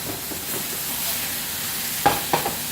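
Filet mignon steaks sizzle in a hot pan with a steady, close frying hiss, broken near the end by a few sharp clinks of utensils against the pan.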